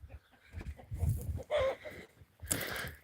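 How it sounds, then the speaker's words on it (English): Faint, intermittent clucking and squawking from roosters running loose in an outdoor farmyard, with short bursts of calls separated by brief pauses. "Got some roosters running around."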